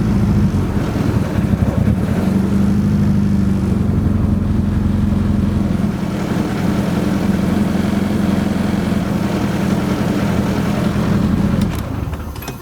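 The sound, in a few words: Nissan SR20DET engine idling, running lean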